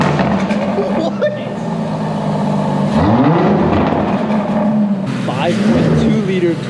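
An Aston Martin DBX 707 engine revs up repeatedly, rising in pitch with a throaty growl and a loud surge midway, while people talk excitedly over it.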